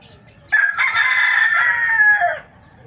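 A rooster in a backyard lets out a single loud, close crow lasting about two seconds, with quieter farmyard sounds before and after.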